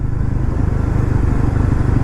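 A Yezdi Roadster motorcycle being ridden on the road, its engine rumbling steadily and loudly throughout with a continuous low throb and wind noise, no voices over it.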